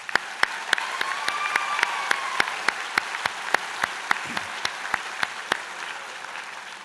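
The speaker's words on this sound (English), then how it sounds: "how about a round of applause for the graduating class of 2019?" An audience applauds the graduating class of 2019 at a business, media and entertainment school convocation, a steady sustained round of clapping with a few sharp, regularly spaced louder claps standing out near the front.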